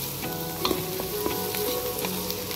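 Mutton pieces fry with fresh ginger and garlic in a hot pan, giving a loud, dense sizzle that runs without a break, with quick utensil scrapes and taps at an uneven pace and no voices.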